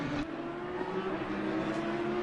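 Jaguar GT3 race car engine in Assetto Corsa Competizione at Spa, a steady sustained drone at high revs, fairly close and loud throughout with no talk.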